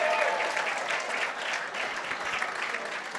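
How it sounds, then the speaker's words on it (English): A gala audience applauds in a broad, even wash of clapping that holds steady for a few seconds, full and fairly loud, with no voices standing out. "give yourself a big round of applause"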